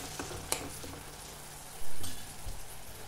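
Chopped tomato being stirred with salt in a frying pan for a masala bhindi (okra) dish, giving a soft steady sizzle with scraping stir noises and one louder clatter partway through.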